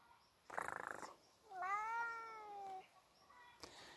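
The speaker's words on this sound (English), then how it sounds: "What are you meowing at?" A domestic cat in a back garden meows in a single drawn-out, rising-then-falling call, close and clear, after a brief rustle; another small sound follows near the end.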